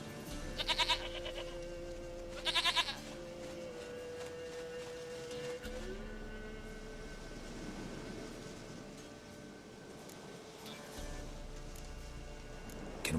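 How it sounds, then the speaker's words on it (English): A goat in The Witcher 3: Wild Hunt bleats in two short, loud calls early on, set against a steady ambient game soundscape with low droning hum and faint background tones. "Goat of mine, dearest, sweetest goat."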